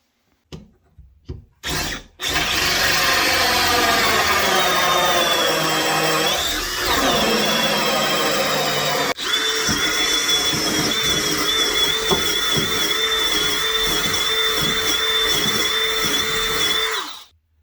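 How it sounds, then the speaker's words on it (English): Power drill boring holes into a wooden workbench top for a miter saw station, a steady loud whine running almost continuously after a few short starting bursts, with a pitch shift partway through as a new hole begins. "Now that we have our holes drilled"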